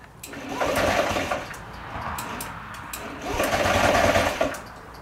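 A cheap Honda Ruckus scooter engine idles roughly at very low revs, a close, chugging, uneven rattle that swells and fades in two surges, with voices faintly underneath.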